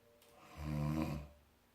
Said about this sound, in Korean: 입을 다물고 코를 한번 골아볼게요